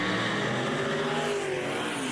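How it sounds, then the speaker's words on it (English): Turbocharged Chevrolet drag race car spooling its turbos at a street racing event, a steady loud engine drone with a rising whine, heard from moderately close. "Tucker showing Nanner Pudding how to spool the turbos"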